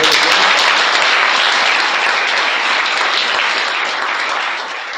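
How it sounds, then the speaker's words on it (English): Sustained applause from a large audience at the 2012 Koch Institute Image Awards, steady dense clapping that holds loud throughout and begins to fade near the end. "we should give them one last round of applause"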